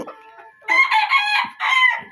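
Deshi chickens on a farm cluck loudly and close up in two bursts of harsh, bright calls, with a short pause between them.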